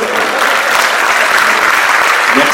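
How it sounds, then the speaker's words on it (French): Loud, dense audience applause at a live French stage comedy performance, continuous and close throughout. "Petit applaudissement."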